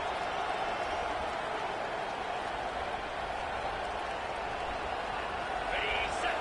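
Simulated stadium crowd in an NCAA 25 college football video game, a dense continuous roar with faint cheering and applause textures, steady and broad, with a commentator's voice over it.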